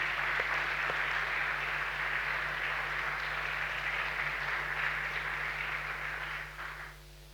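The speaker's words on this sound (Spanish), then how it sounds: "Denle un aplauso al Señor." A church congregation applauds together, a steady wash of clapping with a low hum beneath, fading out at the end.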